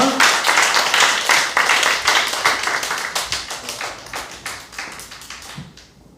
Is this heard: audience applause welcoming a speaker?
yes